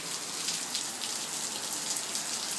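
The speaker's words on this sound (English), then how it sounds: "As you can see, it's raining." Steady rain falls in a backyard, a dense, even hiss of drops pattering on surfaces with no pauses and no voices.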